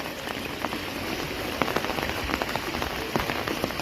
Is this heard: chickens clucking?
no